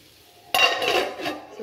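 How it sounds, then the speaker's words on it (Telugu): A spoon scrapes and clinks against a metal pot while potato curry with chili powder is stirred, starting abruptly and continuing in close, uneven strokes. "సో కారం వేసుకున్న తర్వాత మళ్ళీ మొత్తం నేను ఒకసారి కలుపుకుంటాను"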